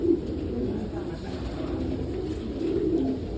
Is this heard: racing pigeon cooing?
yes